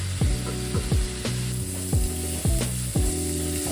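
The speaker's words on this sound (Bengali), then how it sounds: "ভাজা ভাজা হয়ে গেছে পেঁয়াজ রসুনগুলো।" Onions and garlic frying in a pan for egg tadka: a steady sizzle close by, broken by repeated rhythmic clicking and scraping strokes, with no voices.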